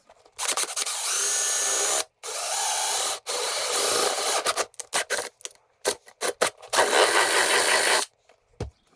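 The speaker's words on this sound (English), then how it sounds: "So I'm gonna drill my hole about right there." Bursts of a high-pitched power drill whirring, several on-and-off runs with brief pauses, close and loud, ending in short choppy pulses.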